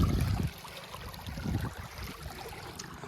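Water flowing along a channel at a fish farm, a steady broadband rush and trickle close by, louder for the first half second and then settling into an even flow with no talking.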